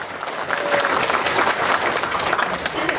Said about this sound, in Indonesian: Tepuk tangan untuk orang dia.